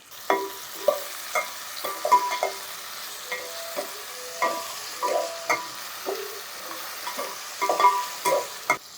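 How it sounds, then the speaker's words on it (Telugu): Ginger garlic paste frying in a pan for a salted fish and brinjal curry, a soft hiss with frequent sharp taps and scrapes of a spoon stirring against the metal, close and without talk. "కొద్దిగా అల్లం వెల్లుల్లి పేస్ట్ వేసుకుందాం"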